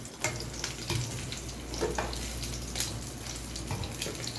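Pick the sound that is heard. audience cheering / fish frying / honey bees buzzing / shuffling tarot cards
fish frying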